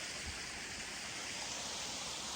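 A creek near a beaver-dammed culvert runs in a steady, broadband rush of flowing water, close and continuous with no voices.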